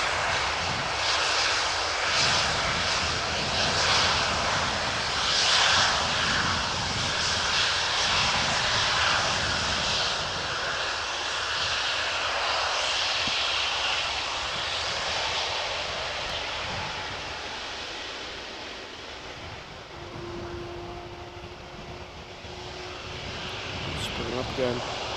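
Jet airliner taxiing at Amsterdam Schiphol Airport, its engines spooling up and easing off in a broad whine and roar, with a person talking over it.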